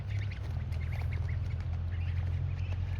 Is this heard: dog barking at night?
no